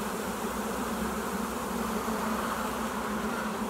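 Honeybees inside a hive, a dense, steady buzzing hum heard up close and continuous, with no voices over it.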